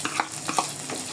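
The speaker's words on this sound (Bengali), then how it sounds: "রসুন এখানে একত্রে মরিচের সঙ্গে ভেজে নেওয়া হচ্ছে।" Garlic and chilies fry in a thin layer of oil while a utensil stirs them in a few quick scrapes, close and steady, for a dried-fish bharta.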